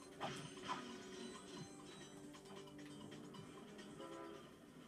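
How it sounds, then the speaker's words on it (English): A train in the Ratchet and Clank video game rumbles steadily with a mechanical clanking, ratcheting hum, quiet and continuous throughout with no talk. "Choo-choo train!"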